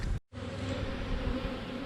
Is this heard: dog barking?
no